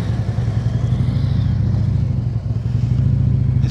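A motorcycle engine runs loud and near during advanced slow-speed riding practice, with a steady low throb, small throttle swells and some clatter.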